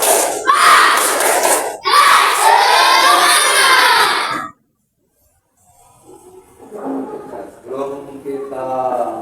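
Schoolchildren in a classroom do a rhythmic spirit clap while chanting and shouting together in loud bursts, then fall briefly silent before voices pick up again more softly.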